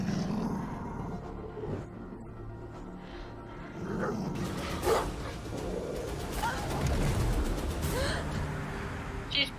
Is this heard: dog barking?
yes